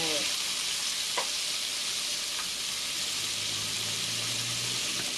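Pork belly drops into garlic already frying in a pan, giving a loud, steady broadband sizzle that runs throughout, with a few faint clinks of stirring and no talking.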